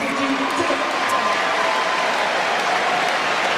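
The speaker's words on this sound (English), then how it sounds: "Lovely round of applause coming here from the fans as well for Mata and for Tuisova" Fans at a Rugby World Cup match between Fiji and Portugal applaud players Mata and Tuisova, a steady wash of stadium clapping and crowd murmur heard at a distance.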